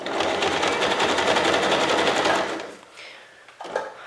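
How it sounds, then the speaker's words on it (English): A sewing machine runs a zigzag stitch through fabric for a fabric basket, its fast even needle clatter close and loud for over two seconds before it stops, followed by a few faint handling sounds. "You're just trying to zigzag stitch between the loose one and whatever you've completed previously."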